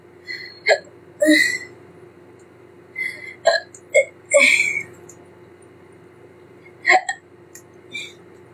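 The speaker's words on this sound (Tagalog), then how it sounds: "sinisinok ako" Repeated hiccups, about a dozen sharp, close bursts spread irregularly through a quiet background, some in quick pairs.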